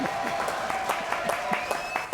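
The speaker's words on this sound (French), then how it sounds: "Allez, applaudissements pour Holdan." Studio audience applause for Holdan on the French show Jacky lave plus propre, a brief burst of clapping with some crowd noise and a voice over it, fairly loud and close.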